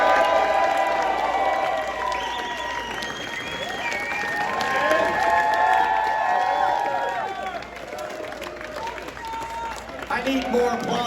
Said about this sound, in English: I need more applause than that.